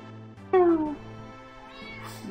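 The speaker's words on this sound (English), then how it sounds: "gotta figure out what she wants, because she's meowing and walking in circles" A female house cat gives one drawn-out meow that falls in pitch, close and clear over steady background game music.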